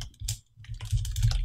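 Close, quick bursts of keystrokes on a computer keyboard as a search is typed during a penetration test, with a brief pause between runs of clatter. No voices.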